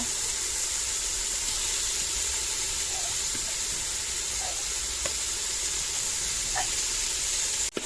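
Ginger garlic paste frying in a pan for mutton lungs chilli gives a steady, loud sizzling hiss that runs without a break, with faint stirring clinks now and then.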